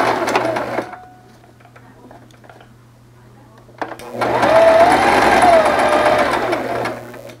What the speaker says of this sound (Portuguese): Aí agora a gente vai começar costurando aqui.